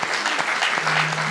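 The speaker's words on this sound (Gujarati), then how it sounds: "મુક્તો તાળીથી વધાવો આવા મુક્તોને." A religious congregation at a spiritual discourse claps together, a dense burst of audience applause filling the room, loud and continuous throughout.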